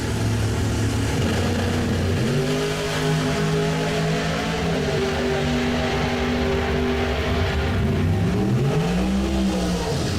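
Drag race cars, among them a 1968 Ford Mustang, roaring off the line in a Super Pro bracket race at about 195 mph, loud, sustained engine drone with rising pitch sweeps as they accelerate away.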